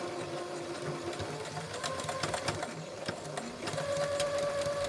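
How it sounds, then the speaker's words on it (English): A sewing machine runs continuously while stitching ribbon trim onto a double-layer tutu, a quiet, close rhythmic whirring with rapid needle ticks that holds steady for several seconds, with no voice over it. "You're going to sew this ribbon"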